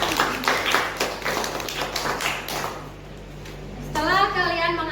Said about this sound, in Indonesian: kepada kelompok 2 kita beri tepuk tangan